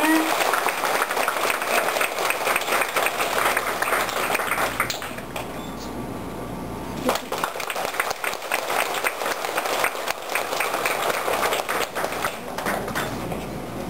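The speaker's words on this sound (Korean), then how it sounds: "끝으로 큰 박수 부탁드리겠습니다." An audience at a senior welfare center sisterhood ceremony applauds with steady, dense clapping that fills the room, briefly easing midway before swelling again, with some talk underneath.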